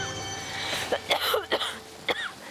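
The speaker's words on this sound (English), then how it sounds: "stop coughing" Several sharp, close coughs from a person suffering from bronchitis and pneumonia in a storm-battered island survival camp, spaced irregularly over a couple of seconds against steady wind noise.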